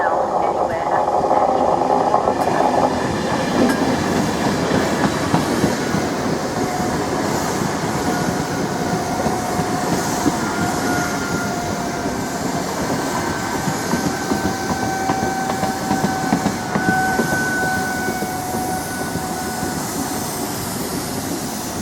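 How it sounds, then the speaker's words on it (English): Class 90 locomotive-hauled passenger train rolling into a station, a steady loud rumble of wheels and traction with faint brake squeal tones, and people talking over it throughout. "we've got the 14:31 service to Norwich, now arriving. Here it comes."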